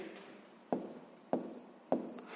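Pen strokes on notebook paper during a sixth-grade maths lesson: three sharp taps about half a second apart, each trailing into a short scratch, close and quiet with no talking.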